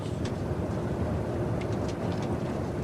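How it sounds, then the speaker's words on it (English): A train moves quickly through the Tokyo suburbs, a continuous low rumble and broad rolling noise of wheels on track, steady and unbroken throughout, with no voices. "The train was moving quite quickly now"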